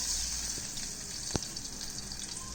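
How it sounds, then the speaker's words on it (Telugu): Chopped large onion pieces sizzling in two teaspoons of hot oil in a pan, a steady hissing fry with a brief sharp crackle midway, no talking. "అందులో పెద్ద ఉల్లిపాయ ముక్కలను తరిగి పెట్టుకున్న వాటిని వేసుకోవాలి"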